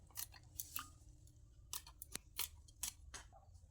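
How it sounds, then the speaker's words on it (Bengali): Green beans being cut by hand into thin, long strips in a home kitchen, giving a series of short, crisp snipping cuts in uneven clusters, fairly faint and close over a low background hum. "প্রথমে আমি বিনসগুলো কেটে নিচ্ছি।"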